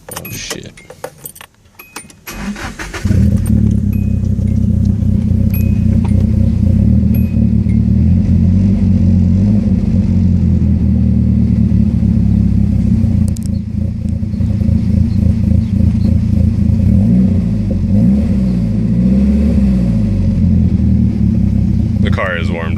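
A 1989 Nissan 240SX with an SR20DET engine cranks after a brief jingle of keys, catches, and settles into a loud, steady idle with rough rumbling pulses and small rev changes close by.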